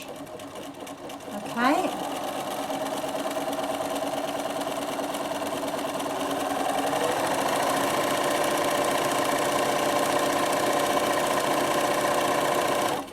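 A sewing machine runs steadily while stitching ribbons onto a fabric gift bag, a loud continuous mechanical whir that starts after a short click and carries on throughout, with someone speaking briefly near the start.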